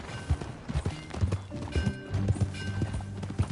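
Horse hooves clip-clop at a steady walking rhythm in a PS4 game, close and moderately loud, with faint background ambience and no clear talk over the hoofbeats.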